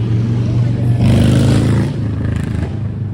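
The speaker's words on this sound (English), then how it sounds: "we'll wait to the motorcycles pass." Motorcycles pass along a Manhattan street on a Friday night, a loud, rumbling engine drone that builds and fades over a few seconds amid city traffic.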